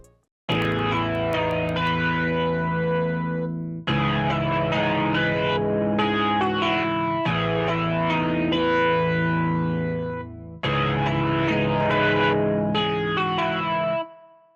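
Bazille synth plugin playing the PSD Riff Rocker preset, a distorted, chorused riff in four sustained phrases with short gaps between them. It is loud and rich in harmonics, with a touch of echo.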